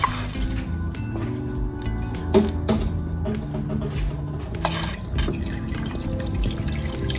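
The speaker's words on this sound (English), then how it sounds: "we're going to pour water in here" Water poured into a pot of collard greens and meat in a home kitchen, a soft continuous trickle with a few light clinks and drips, close and steady throughout.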